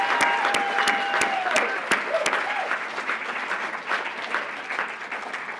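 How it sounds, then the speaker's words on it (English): Audience applause at a morning teachers' awards ceremony fills the room with dense, steady clapping and a few sharp, louder claps near the front, along with faint whoops and voices mixed in. "One more big round of applause."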